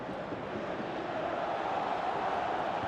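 A stadium crowd in a PES 2018 Europa League football match gives off a steady, broad roar that holds evenly throughout, with no talk over it.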